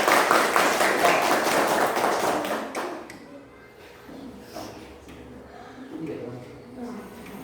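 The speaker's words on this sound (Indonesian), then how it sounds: "Tepuk tangan untuk kelompok 2." Applause in a fifth-grade elementary classroom, a burst of children clapping together for about three seconds before it stops abruptly, followed by quiet room murmur and a few faint voices.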